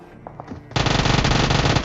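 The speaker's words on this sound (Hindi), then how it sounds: "जो पीछे से फायर आ रहा है उस चीज़ पे ध्यान दो" Automatic gunfire fires in PUBG Mobile from behind the player during a last-circle fight, a loud rapid burst of close shots after a few faint thuds, with no talking.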